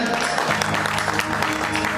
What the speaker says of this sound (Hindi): ताली बजाइए बहुत सारे।